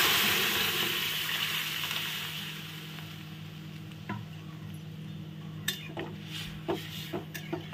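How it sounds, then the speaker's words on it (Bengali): Boiled bottle gourd and lentils are tipped into a frying pan, starting with a soft wet slide and sizzle, followed by a few sharp clinks of a utensil against the pan. "এই অবস্থায় দিয়ে দিচ্ছি আমি লাউ আর ডাল যে সিদ্ধ করে রেখেছিলাম সেইটা।"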